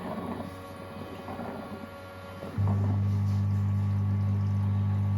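A robot mop self-cleaning at its docking station at home starts up partway through, a loud, steady low mechanical hum and whir replacing softer background rumble and clatter.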